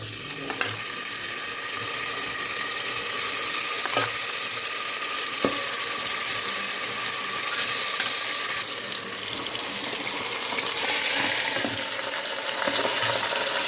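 Marinated mutton frying in ginger-garlic paste for a biryani, with a steady loud sizzle and hiss throughout, occasional stirring clinks and small scrapes, and no voices.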